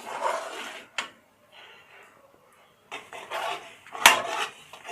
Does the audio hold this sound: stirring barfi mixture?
yes